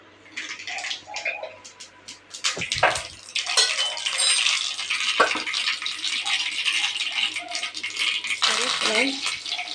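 Mustard seeds splutter and pop in hot oil in a pan while sambar is being cooked, giving bursts of sharp crackles and rattling spits that come close and loud, thinning out and then flaring up again.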